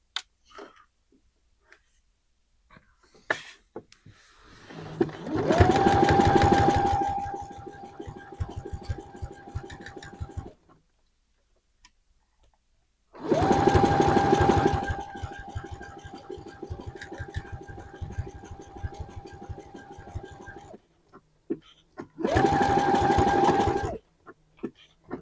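A sewing machine runs a lock stitch on leggings in three separate bursts, each a close, steady whirring hum with rapid needle ticking, divided by quiet pauses.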